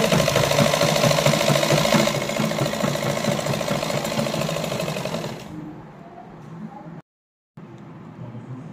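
A sewing machine stitches along the edge of layered salwar fabric, a steady close mechanical whir that runs for about five seconds, then drops to a softer, intermittent hum with a brief silent gap.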